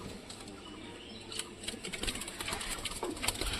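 Soft pigeon sounds from a red pigeon in a loft on a hot day, with quiet, irregular coos and rustling flutters, faint and close, with no talking.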